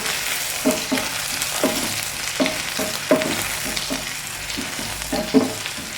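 Sliced onion and green chillies sauté in a pan for a beef roast, a continuous close sizzle broken by regular scraping stirs of a spatula.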